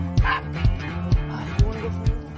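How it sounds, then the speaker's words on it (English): A dog barks repeatedly in a steady rhythm of short yips and bow-wows, close and fairly loud, with a voice faintly present beneath it. "It's Daisy! Crystal's dog"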